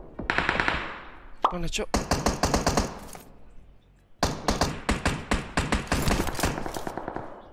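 Rapid bursts of automatic gunfire in PUBG Mobile, loud and close, rattling in repeated volleys with a short gap midway, while a player talks briefly over the shooting.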